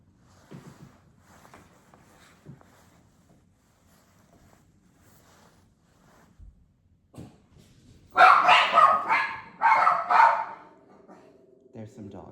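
Dogs inside a nursing home during a vital signs check: quiet room sounds and faint voices at first, then a close burst of loud barking for about two seconds before it drops back.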